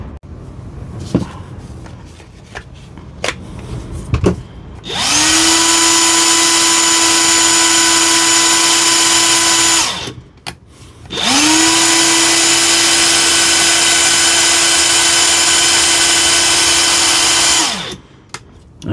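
A repaired DeWalt cordless impact wrench, freshly cleaned and greased, runs in two long steady bursts of about five and seven seconds, a loud, even, high-pitched motor whine with a short pause between them and near silence before and after.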